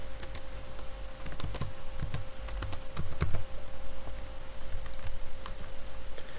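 Typing on a computer keyboard to enter a website name in Blogger: a steady patter of close, crisp key clicks with irregular rhythm over a faint electrical hum, no voices.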